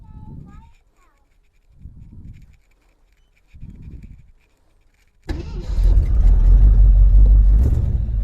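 A 1968 AMC Javelin's engine, its carburetor in need of work, catches and settles into a loud, steady idle after several seconds of muffled low thumps, running close by without a break.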